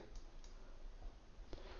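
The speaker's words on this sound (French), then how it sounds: "J'enfonce la touche I du clavier pour choisir une couleur" A few faint, sparse clicks of keyboard keys being pressed over a steady background hiss.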